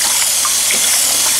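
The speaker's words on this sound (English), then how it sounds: "I'm gonna get some water going here." Tap water runs steadily into a kitchen sink as a cast iron pan is rinsed, a loud, continuous hiss and splash close by with no talking.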